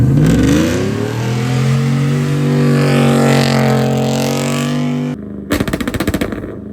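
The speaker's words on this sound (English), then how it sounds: "MagnaFlow bullet muffler, and it exits right here on the driver's side, and it sounds downright wicked" A modified 5.3 V8 truck with 3-inch piping, a MagnaFlow bullet muffler and a driver's-side exit revs loudly and close, its deep tone rising and falling for about five seconds, then cuts to a short burst of crackling pops.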